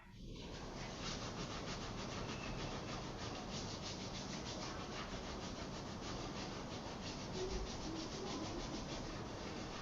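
Steady dry friction of palms rubbing together during a hatha yoga self-massage, a continuous close hiss that runs the full length without pauses or talk.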